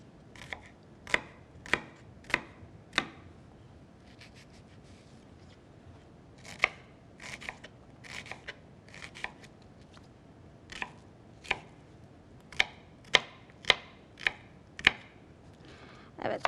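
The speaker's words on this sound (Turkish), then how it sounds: "böyle ufak ufak şöyle doğruyorum" A knife chops artichoke stuffing ingredients on a cutting board in sharp, separate thuds, sometimes in quick runs, close by over a soft background hum.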